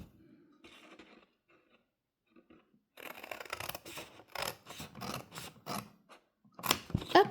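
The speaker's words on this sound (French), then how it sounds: "on coupe tout ce qu'on ne veut pas pour cette petite boîte." Scissors cutting cardboard to make a small box, a quiet run of close snips and rasping cuts in short bursts, with sparse gaps between strokes.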